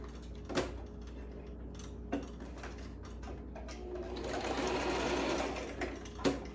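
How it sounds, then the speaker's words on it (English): A sewing machine stitches straight across slim-fit necktie fabric in a steady whirring run that swells in the middle, punctuated by a few sharp clicks and knocks of handling. "we're just gonna sew straight across."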